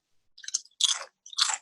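Crunchy flame grilled steak Doritos crisps bitten and chewed close to the mic, three distinct crunchy bites in quick succession with brief silent gaps, no talking.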